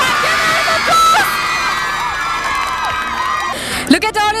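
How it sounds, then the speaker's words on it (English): Students at Dayapuram Residential School cheer and whoop for newly elected school leaders, a loud crowd of young voices with shouts rising and falling and a few sharp yells near the end. "Everyone give us applause!"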